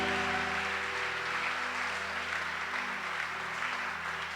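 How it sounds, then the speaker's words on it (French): Congregation in a French-speaking church applauding and acclaiming the Lord, a steady wash of clapping and cheering from many people with a held musical tone underneath, continuous throughout. "Est-ce qu'on peut acclamer le Seigneur?"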